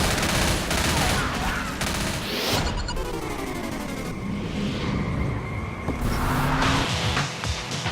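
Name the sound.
gunfire against zombies in the video game Left 4 Dead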